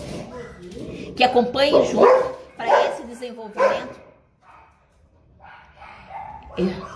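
A dog barks in short bursts, with a few yips and whimpers, close by and tangled up with someone talking in Portuguese indoors.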